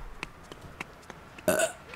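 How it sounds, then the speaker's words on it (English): One short, fairly loud burp near the end, preceded by faint clicks and small background sounds. "Burp."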